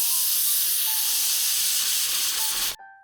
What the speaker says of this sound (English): Now place the pressure cooker on the stove, set the heat to high, and cook it for 3 whistles before turning the heat off.